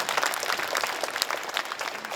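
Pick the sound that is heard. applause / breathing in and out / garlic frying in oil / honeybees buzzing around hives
applause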